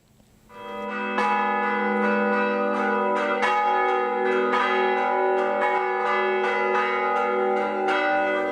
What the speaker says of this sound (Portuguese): essa arte e tradição dos toques de sinos